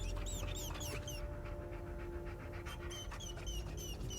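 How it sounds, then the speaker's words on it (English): A dog in the video game Hell is Us pants rapidly in steady quick breaths, with high whimpers breaking in at the start and end, close and fairly loud. "found the poor pup whimpering alone in a house, just abandoned there by the owners."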